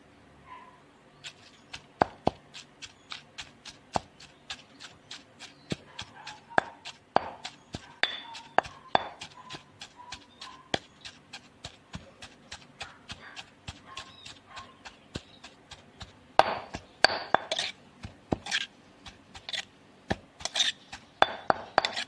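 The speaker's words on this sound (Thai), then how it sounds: "แล้วก็เอาปลาทูลงไปตำเลยนะเจ้าโขลกกับพริกนี่เนาะ" Repeated sharp, hollow thuds from pounding mackerel and chilies in a mortar, steady at first and then faster and louder toward the end, with faint clinks between strikes.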